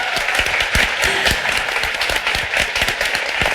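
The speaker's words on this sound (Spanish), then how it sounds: "Un grandísimo aplauso para él" Close, lively applause from a small audience at a book presentation, with distinct sharp claps over a continuous patter, steady for a few seconds.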